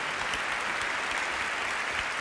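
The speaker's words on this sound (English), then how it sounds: "Let's give them a big round of applause." An audience applauds at a talk about young people, a continuous wash of clapping that stays even and fairly soft throughout, with no speech on top.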